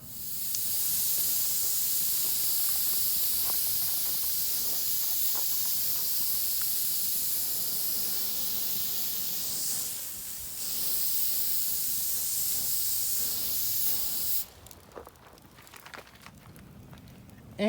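Canola or vegetable oil sizzles steadily on a hot grill grate being seasoned, a continuous close hiss with faint crackles that runs almost unbroken and eases off toward the end.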